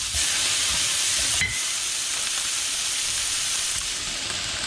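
Mushrooms stir-fry in sesame oil in a hot pan, giving a loud, continuous sizzle with a brief clatter of stirring partway through, close and without talk.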